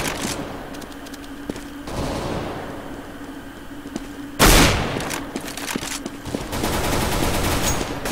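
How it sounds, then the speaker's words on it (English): A flashbang goes off in a multiplayer video game match: one sudden, loud, broadband blast partway through, set among scattered gunfire-like cracks and steady background game noise. "Deploying flashbang."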